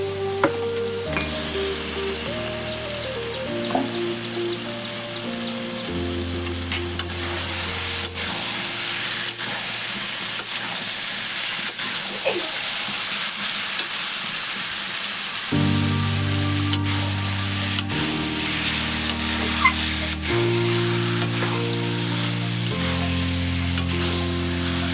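Marinated chicken pieces for a red chicken curry fry and sizzle in a pan, a loud steady hiss running throughout with occasional stirring clatter, while music plays alongside.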